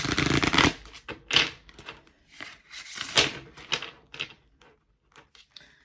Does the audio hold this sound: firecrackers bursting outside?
no